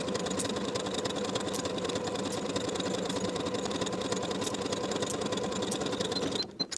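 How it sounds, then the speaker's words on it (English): A sewing machine stitches sleeve seams on an athletic top, running in a steady, fast, whirring hum that continues evenly without pause before stopping abruptly at the end. "Sew each seam at 3/8 of an inch."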